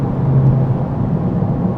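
A Mk7.5 Volkswagen Golf GTI with its rear silencer box removed accelerates hard, a loud, dense low engine and exhaust roar that holds steady and close for the whole moment, with no speech over it.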